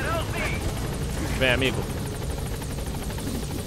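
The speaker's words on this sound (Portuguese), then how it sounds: "esperar esse helicóptero é meio chato" A helicopter arrives in the video game Metal Gear Solid V, its steady rotor drone filling the clip while someone briefly speaks over it.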